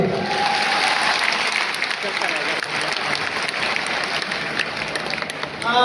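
A large audience in an indoor stadium in Delhi claps loudly with raised hands, dense continuous applause sustained throughout at close range, with scattered voices mixed in.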